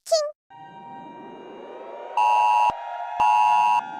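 Korean emergency missile alert siren with a short voice-like chirp at the start, then a steady electronic wail that swells into two loud, bright tonal bursts of about half a second to a second each, ringing alone without talk.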